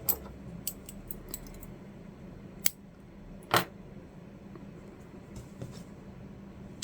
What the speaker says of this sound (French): une maille en l'air et on coupe le fil ici